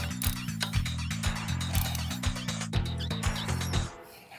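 Ratchet wrench tightening a Toyota Camry alternator bolt to final torque, a rapid run of close, loud clicking strokes in a steady rhythm that stops abruptly at the end.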